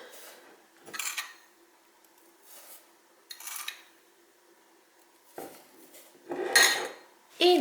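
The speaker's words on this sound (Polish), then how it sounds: "dalej ubijam tak, aby ten cukier całkowicie się rozpuścił." Egg whites, already beaten stiff, being hand-whisked with three spoons of sugar in a bowl for a lemon foam cake: short bursts of scraping, clinking strokes separated by quiet pauses, growing busier toward the end.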